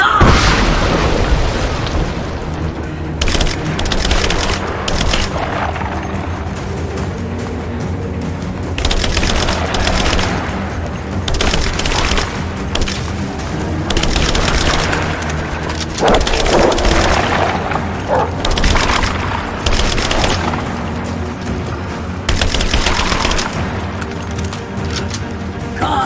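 Gunfire in the video game Shadow of the Tomb Raider, with dense, loud bursts of shots and booming impacts running throughout, mixed with game music and effects.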